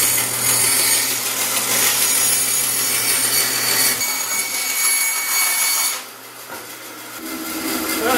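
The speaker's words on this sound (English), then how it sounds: "I'm just going to try to bandsaw this off." Bandsaw cutting a piece of wood off a garden gate, a steady close rasping cut with the motor hum underneath for about six seconds, then the cut ends and the machine keeps running more quietly.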